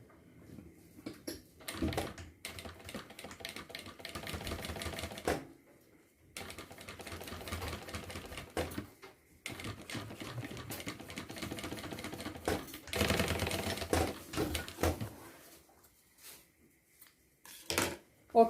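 Sewing machine stitching a backpack seam with black thread, running in rapid bursts of several seconds separated by short pauses, close and fairly quiet.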